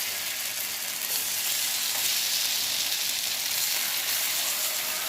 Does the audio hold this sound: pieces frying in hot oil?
yes